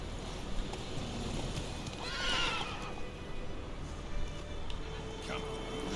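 Roach, a horse in The Witcher 3, whinnies once loudly while hooves clip-clop in a steady trot underneath, with someone talking to the horse over the sound.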